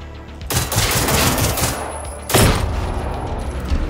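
Rapid gunfire at enemies in the video game Generation Zero, two loud sustained bursts of automatic fire close up, the second starting partway through, with no talking.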